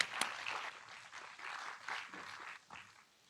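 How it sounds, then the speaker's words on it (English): At a translators' and interpreters' conference close, the audience gives its volunteers a round of applause. The clapping is moderate and somewhat distant, swells in a few waves, then thins out at the end. "A round of applause for our fantastic volunteers"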